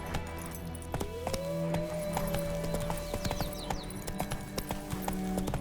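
Roach, a horse in The Witcher 3, gallops with steady clip-clop hoofbeats over a constant game ambience, and a rising whinny cuts in near the start.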